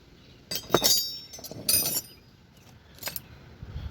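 Metal S-K box wrenches, including a 13/16 by 7/8, handled close by, giving a few sharp bright clinks and jangles in short clusters with quiet gaps between.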